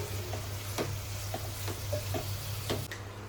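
Cabbage and mushroom fry in a pan with a steady low sizzle, broken by occasional light ticks and clicks of stirring, heard close up with no talking.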